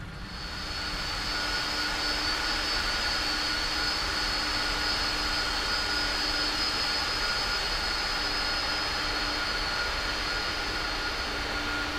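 Airliner jet engines taxiing at Quito airport in Ecuador, a steady loud whine and broadband roar with sustained high tones, continuous and close, no voices.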